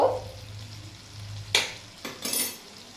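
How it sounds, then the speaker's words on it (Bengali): Prawns are tossed and fried in a pan for a sweet prawn roast. A low, steady sizzle runs under a few close scrapes of the spatula against the metal. "চিংড়ি মাছটা দিয়েও এবার আমি ভালো করে এটা নেড়ে চেড়ে নেব"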